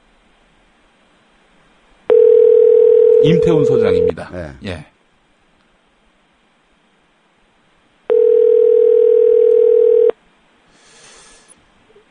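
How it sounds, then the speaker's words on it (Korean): Telephone ringback tone heard while a call is placed, two long steady electronic tone bursts separated by a pause. A brief burst of speech cuts in over the end of the first tone, with a faint voice near the end. "지금 전화를 걸었습니다"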